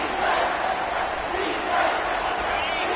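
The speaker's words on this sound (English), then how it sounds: "The crowd getting behind this defense as they try to get a stop in the red zone" A stadium crowd in an American football video game roars steadily as the defense tries for a red-zone stop, a dense, sustained wash of cheering and shouting at moderate level.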